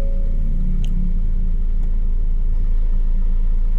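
The air-conditioning fan of a 2024 Ford Ranger XL 4x4 roars loudly and steadily, a constant low, droning whoosh filling the cabin with no pauses and a couple of faint clicks.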